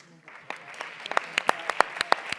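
Clapping rises at an education festival as participants' names are called out, a ragged run of sharp individual claps that grows into a loose, uneven round of applause in a hall.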